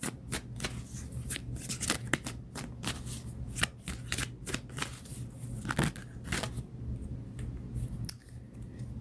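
Oracle cards are shuffled close and soft in a quick papery riffle of rapid flicks and slides, continuing steadily with brief irregular pauses.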